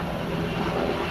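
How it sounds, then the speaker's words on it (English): Military helicopter passing overhead outdoors in a rural garden setting, a steady broad rotor and engine drone holding at constant loudness throughout, fairly near and continuous, with no talk over it. "That's a military chopper of some sort."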